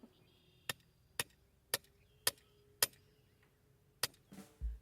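Hammer striking in a vegetable garden: six sharp, evenly spaced knocks, close and alone, followed by a brief shuffling clatter at the end.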